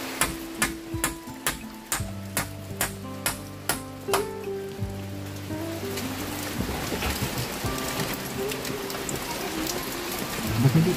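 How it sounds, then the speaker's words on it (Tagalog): Heavy rain falls on a farm site where a shed is being built, a steady broadband hiss that takes over after a run of evenly spaced hammer blows and keeps going loudly to the end. "Lakas ang ulan."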